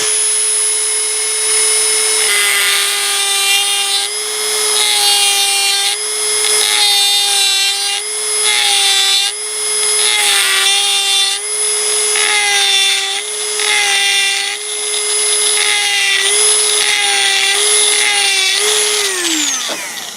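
A Dremel rotary tool grinds a wedge, its high-pitched motor whine running loud and continuous, dipping slightly in pitch with each pass against the metal in an uneven rhythm before spinning down at the end.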